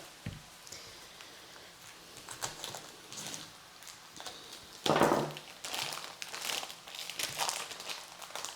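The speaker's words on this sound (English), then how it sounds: "let's cut our meat" A knife cuts meat on a cutting board, with soft irregular crinkly scraping and tapping close by and one louder chop midway, no talking.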